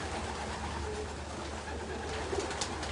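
Racing pigeons, part of a load of 719 birds, coo softly and repeatedly against a steady low rumble, their murmuring calls close but gentle.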